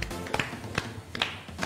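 Sharp hand claps from a children's primary-school class dancing around chairs in a game of musical chairs: five or six crisp claps at uneven intervals over a low background.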